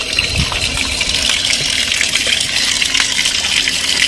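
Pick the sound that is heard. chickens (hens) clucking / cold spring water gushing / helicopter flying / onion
cold spring water gushing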